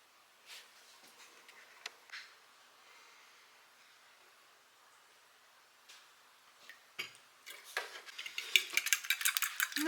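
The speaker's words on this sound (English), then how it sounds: "I'm going to get that milk mixed up in the eggs" A fork whisks eggs and milk together in a bowl: soft scattered taps at first, building into a fast, steady run of close, crisp clicks and scrapes.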